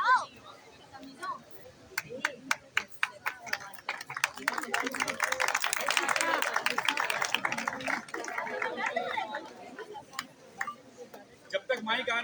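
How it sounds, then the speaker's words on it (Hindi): A burst of applause from a group at an awareness session, claps building to a dense patter and then thinning out, with voices talking in Hindi-Urdu over it. "तालियां बजाओ"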